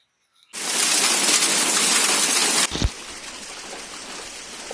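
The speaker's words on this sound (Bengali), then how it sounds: "জোর বৃষ্টি আরম্ভ হয়েছে" Heavy rain starts abruptly as a dense, loud, steady hiss, then cuts off after about two seconds with a dull thump, leaving a quieter wash of background rain.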